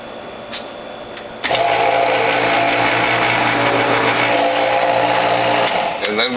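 A juicer motor starts abruptly and runs loud and steady as pulp and leftover produce, carrot and bitter greens, are forced through the front-loading feed tube, then it cuts off near the end.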